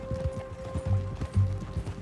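Horse hooves pound in a galloping rhythm in Red Dead Redemption 2, a run of steady close thuds with faint game sounds behind them.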